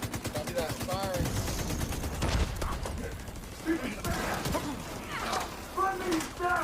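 Rapid automatic gunfire in The Division 2 video game bursts and crackles through a firefight while voices talk over it and chatter on radios, and the shots come loud and near.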